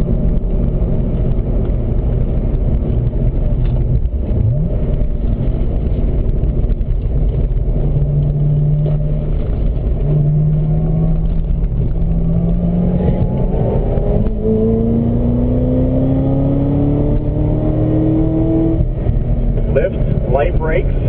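Corvette ZR1 race car accelerating down the back straight of a race track, a steady loud engine drone that climbs in pitch through the gears, heard from inside the car with wind and road rumble, and a voice talking over it.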